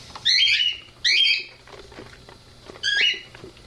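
Pet birds squawk indoors in three loud, harsh bursts separated by short pauses, near and clear over a faint room hum.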